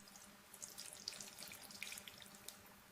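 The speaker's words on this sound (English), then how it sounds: "I water the plants." Water runs from a household tap to water plants, a soft steady splashing stream with small bright drips, fairly quiet and close, with no voices.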